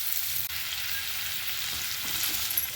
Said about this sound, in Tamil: இதை கொஞ்சம் லேசாக வதக்கிக்கலாம் நம்ம. நான் கொஞ்சம் கூட எண்ணெய் விட்டுக்கிறேன்,